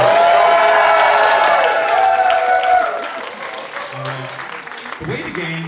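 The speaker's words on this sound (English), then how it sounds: "let's give a round of applause for Braden." Loud applause from an audience fills the room, with cheering mixed in, then fades to scattered clapping and murmuring after a few seconds.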